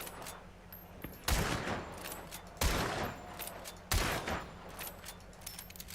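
Three loud bursts of gunfire from the video game Hunt: Showdown crack out about a second apart, each trailing into a short echoing decay over a low background hum, with no voices.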